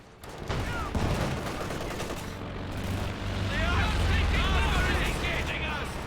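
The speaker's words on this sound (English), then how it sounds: "more rocket attacks" Rocket barrages and battlefield gunfire in a Company of Heroes 2 match, a dense continuous roar of explosions and rattling shots with whooshing streaks, loud and sustained, while a voice talks over it.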